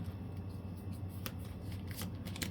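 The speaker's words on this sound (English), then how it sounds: "We shuffle that discard pile a little bit, and then we shuffle it into the population draw pile as a whole." A discard pile of board-game cards is shuffled, giving soft riffling and flicking bursts close by over a low steady hum, with no speech.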